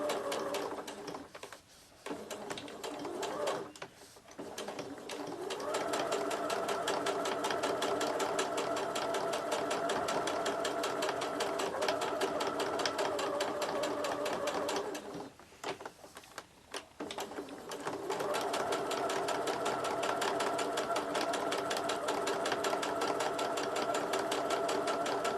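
A sewing machine stitches around a scrappy fabric Christmas ornament in long, steady runs of fast mechanical chatter, broken by two brief pauses where the fabric is turned with the needle down.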